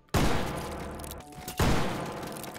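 Two loud, close revolver shots fire in a video game about a second and a half apart, each one a sharp crack followed by a fading ring.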